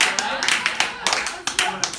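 Audience applause at a live comedy performance, a short burst of scattered clapping, fairly loud and close, mixed with voices from the crowd.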